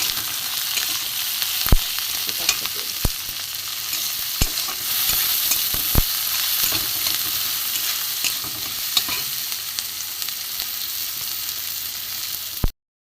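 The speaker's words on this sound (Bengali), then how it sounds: "এতে কিছুটা আমি নুন দিয়ে দেবো পেঁয়াজটা নরম হয়ে যাবে" Onions fry with salt in a hot pan, crackling in a steady loud sizzle while a spoon scrapes and stirs, with sharp knocks of utensil against the pan at irregular intervals.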